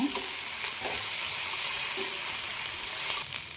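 Masala roasts in a hot pan for egg chicken sambar, giving a continuous soft sizzle and frying hiss with occasional stirring scrapes, steady and fairly quiet with no talking.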